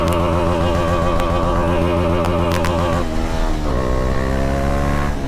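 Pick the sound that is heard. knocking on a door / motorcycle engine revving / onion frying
motorcycle engine revving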